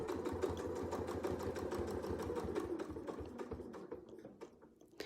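A sewing machine stitches a quilt seam on a quarter-inch line, its needle pulsing in a rapid, even mechanical rhythm up close, then slowing and stopping near the end.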